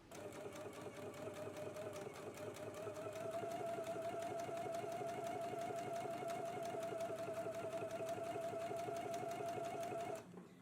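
A sewing machine stitches around the opening of a zippered patch pocket, running in a steady, rapid mechanical chatter with a sustained hum for about ten seconds before stopping abruptly, with no talking.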